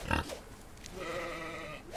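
Pig grunting in the Outlaws of the Old West video game on a farm: a loud burst of grunts at the start, then a softer sustained squealing cry through the middle, all close with no talk.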